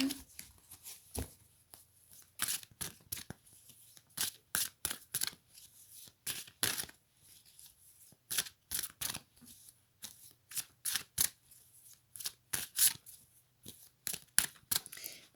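Oracle cards being shuffled by hand in a quiet room, a steady series of crisp riffling bursts with short pauses between them, close and fairly soft.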